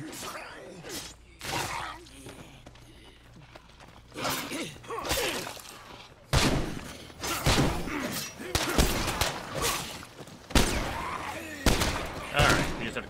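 Video game gunfire in State of Decay 2 as players shoot a zombie: loud, sharp shots in irregular bursts and volleys, with a few gaps between them and voices talking over the action.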